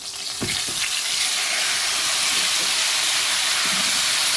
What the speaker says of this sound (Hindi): टमाटर को सॉफ्ट होने तक हमने इसको भूनना है।